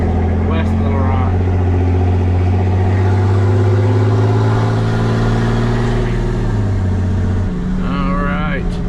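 A Ford F-750 truck cruising down the road, its loud engine giving a steady low drone with shifting tone, and a voice speaking briefly over it near the start and end.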